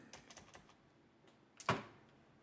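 Quiet keystrokes tapped on a computer keyboard, a few light clicks early on, then one sharper, louder key strike near the end.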